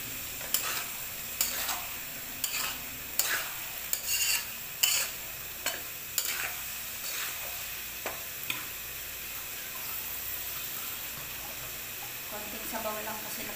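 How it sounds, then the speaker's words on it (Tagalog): Vegetables for pancit bihon guisado are stirred in a pan, with repeated clinks of a spatula against the metal and a steady sizzle beneath them. Near the end the clatter thins out and only the frying hiss continues. "Tapos lagyan na natin dito yung ating gulay."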